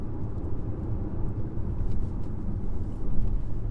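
Inside a Volvo XC40 on the move, a low, steady engine drone with road and wind noise rumbles on without a break, fairly quiet, and no distinct gear change stands out.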